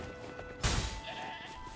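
Goat bleating in the video game Wuthering Waves, with one short, loud, close bleat over a low ambient game hum.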